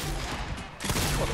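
Gunfire in the video game Fortnite, a dense burst of rapid shots with a short dip and then a louder continuing volley, loud and close-sounding, with no voices over it.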